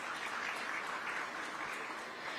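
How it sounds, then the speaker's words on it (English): Steady, continuous applause from a large audience at an economic summit session, a dense wash of clapping that holds evenly throughout without talk over it. "So can we welcome him as well with a huge round of applause."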